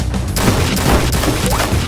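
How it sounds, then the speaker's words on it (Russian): Gunfire in the game Garry's Mod DarkRP, a dense burst of crashing shots that keeps going without a break for about two seconds at a steady, fairly loud level. "что там за стрельба такая?"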